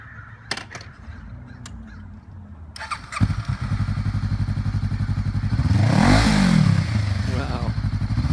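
A used 2014 Honda CB500X lightweight parallel-twin adventure motorcycle starts up and runs at idle nearby, its steady low engine rumble swelling briefly with a rev, after a few sharp clatters and faint background sounds.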